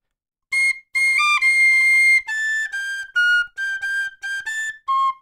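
A whistle plays two bars of a well-known solo slowly, a string of clear, separate sustained notes that step between pitches, close and alone with no talking.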